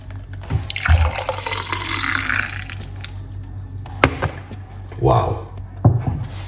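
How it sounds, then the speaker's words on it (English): A homemade blood pressure drink poured out of its container, making close splashing, gurgling pours in a few uneven bursts with light clinks in between. "Let's pour it out."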